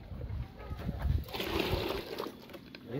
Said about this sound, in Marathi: गरम पाणी काढतो त्यांना बादलीनं काढतो